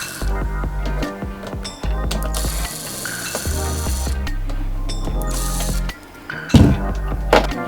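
A pulley on a Hobie Outback kayak is unscrewed by hand, giving repeated ratcheting clicks in short bursts with brief pauses, close and fairly loud.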